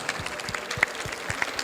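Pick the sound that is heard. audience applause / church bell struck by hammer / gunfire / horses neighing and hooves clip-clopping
audience applause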